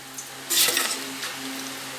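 Tempering spices, including mustard seeds, sizzling in hot oil while being crushed with the back of a ladle, a soft close sizzle with one brief louder burst of crackle near the start, with no voices.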